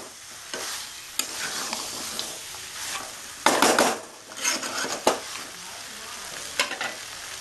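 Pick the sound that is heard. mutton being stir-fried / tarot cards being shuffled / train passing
mutton being stir-fried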